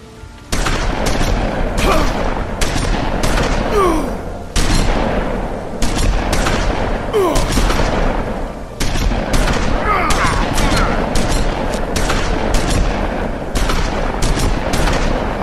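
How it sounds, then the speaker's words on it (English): Shotgun gunfire in the video game The Wolf Among Us: loud, repeated blasts fired in steady succession over a continuous rumbling backdrop, with brief pauses between volleys and faint voices underneath. "How many shots do they have in their shotguns?"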